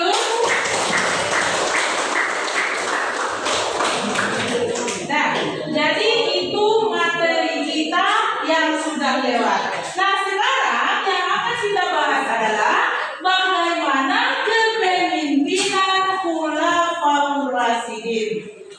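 A class claps for a few seconds, a dense patter of hands at the start that fades as a teacher resumes speaking over light chuckles.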